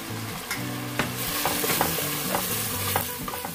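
A tablespoon and a half of spices sizzle in hot oil with a steady, close frying hiss, broken by light stirring taps and scrapes. No one speaks.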